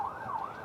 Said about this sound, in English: notice now we got the police sirens going in the background.